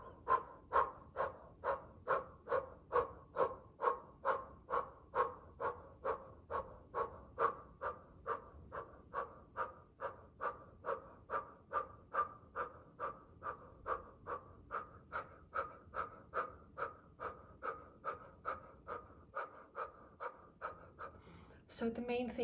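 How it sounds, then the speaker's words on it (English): Rapid rhythmic breathing through an O-shaped mouth during a Kundalini kriya, some forty quick even breaths in steady succession, close and clear. "start breathing to the O-shaped mouth again and super fast as the hands are moving fast as well"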